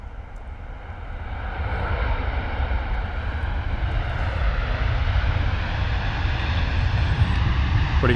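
An airliner on landing approach at London Stansted Airport, a steady broad engine roar that swells slightly and holds loud and fairly close, continuous throughout without talk.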